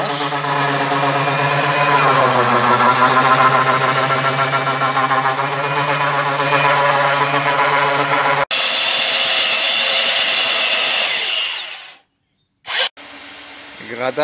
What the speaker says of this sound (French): Ponçage des planches.